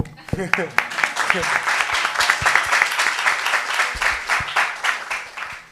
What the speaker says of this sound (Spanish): Bueno, perdón, aplaudirle